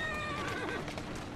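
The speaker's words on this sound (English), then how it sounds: "Runaway horse, there you go." Carriage horse in the video game Assassin's Creed Syndicate giving a single clear whinny, close and loud, with clip-clop hooves and game ambience beneath it.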